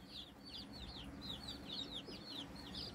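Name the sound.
meat bird chicks in a brooder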